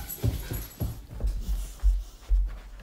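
A few soft, low huffs and whimpers from Cash, a pet dog, spaced irregularly across a couple of seconds, close by in a quiet room.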